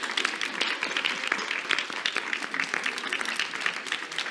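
An audience at a talk on sculpture and performance art claps together in a dense, steady round of applause. The clapping holds at a moderate level for several seconds with a few voices faintly underneath.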